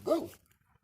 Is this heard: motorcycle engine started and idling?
no